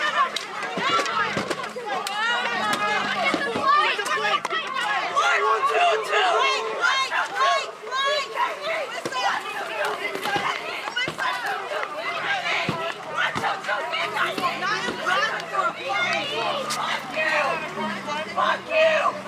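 A dense street protest crowd in Minneapolis chatters and shouts nearby, with footsteps and scattered voices throughout as a car moves slowly through, and its engine is mostly masked by the babble.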